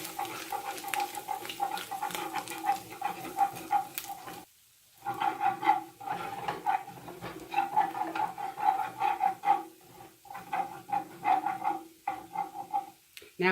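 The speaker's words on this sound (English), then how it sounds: "Now we need to add 3 tablespoons of flour. Mix that all in." A spoon stirs flour into cooked sausage in a pan, giving steady scraping and clinking strokes in a regular rhythm, close and fairly clear, with one brief pause.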